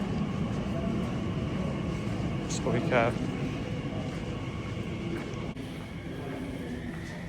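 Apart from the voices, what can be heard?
Reading train at London Paddington station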